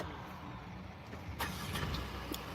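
A car drives slowly past close to a parked car, its engine a steady low rumble that swells slightly, with a few faint clicks and knocks.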